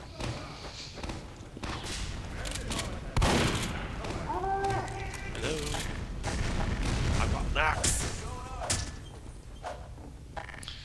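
Gunfire in a Team Fortress 2 match, a string of loud shots and thumping blasts scattered throughout, with game voices and tones mixed in.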